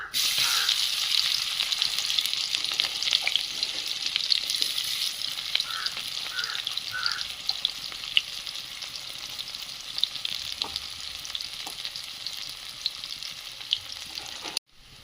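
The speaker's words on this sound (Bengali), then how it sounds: "পাঁচ ফোড়ন দেব তারপর দেবো পেঁয়াজ কুচি লঙ্কা কুচি" Chopped onion and green chilli frying in hot oil with five-spice seeds, a loud, steady close sizzle lasting about fifteen seconds, with a few brief stirring scrapes and a sudden stop at the end.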